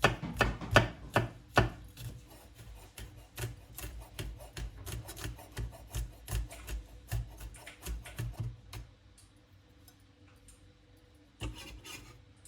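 Rapid knife chopping as garlic is minced on a wooden board, a steady run of sharp taps that thins out and stops, with a couple of final knocks at the end.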